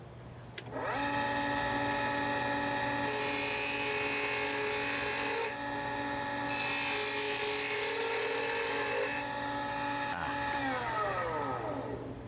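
A wood lathe spins a piece while it is trimmed, giving a steady motor hum and a high whining tone that rises as the cut begins. The tone stops and restarts partway through and then winds down near the end.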